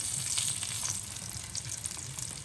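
Syrniki, Ukrainian cottage cheese pancakes, frying on their second side in an uncovered pan, giving a steady, close, continuous sizzle with fine crackling throughout and no voices.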